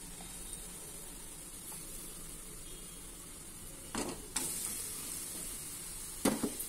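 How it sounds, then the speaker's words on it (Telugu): Rose cookies deep-frying in hot oil, a soft continuous sizzle and hiss with a few brief louder clinks or splashes near the end, quiet and close. "గోల్డ్ కలర్ వచ్చిన దాకా వేయించుకొని చక్కగా పైకి తీసేస్తే చక్కటి గులాబీలు రెడీ అయిపోతాయి మనకి"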